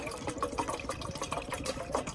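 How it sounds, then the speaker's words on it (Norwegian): Water is hauled up and poured beside a brush burner, sloshing in short splashing bursts, close and fairly quiet, with no one speaking. "Vi hiver opp en god del vann."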